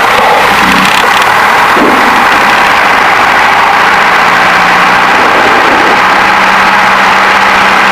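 A Piper PA-28 light aircraft's piston engine runs up to about 2000 RPM, a loud, steady, close droning roar that holds throughout with no talk.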